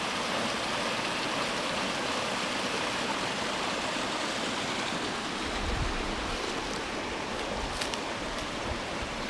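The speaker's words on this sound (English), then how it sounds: "Oh, here we've got a little stream." A small stream rushes steadily through a culvert beside a springtime trail near Elliot Lake, a continuous broadband wash of flowing water with no talk.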